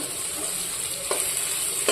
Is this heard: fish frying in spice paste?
yes